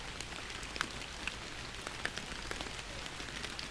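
Rain falling in the Fishing Planet fishing game at Emerald Lake, a faint, steady patter of drops on water with a few slightly louder individual drips.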